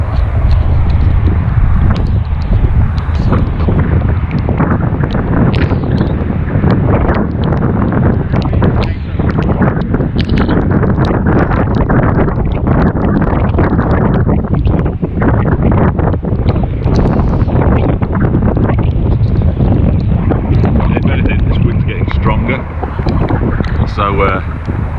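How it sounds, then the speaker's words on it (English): Heavy wind roars continuously across the microphone in the open pound between two canal locks, loud and rumbling, with constant gusty buffeting throughout. "There's so much wind in the pound between the 2 locks."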